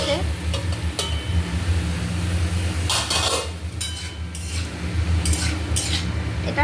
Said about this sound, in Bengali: সেই জন্য গোটা জিরে দিচ্ছি। আচ্ছা, এটা ভাজা হোক